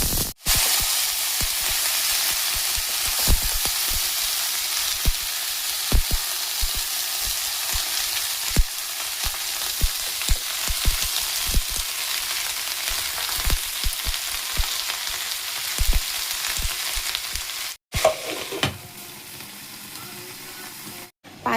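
Mixed vegetables fry in hot oil with panch phoron and dried red chillies, giving a dense, loud, continuous sizzle with scattered pops and stirring clicks. A brief break comes near the end, then the frying resumes more quietly.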